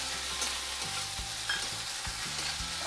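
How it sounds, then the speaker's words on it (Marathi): Green peas, chilli and tomato stirred in a sizzling pan for a Maharashtrian matar bhaji, a steady close fry hiss with repeated scraping thumps of the spoon against the pan. "थोडं आपण असं चांगलं हलवून घेऊया।"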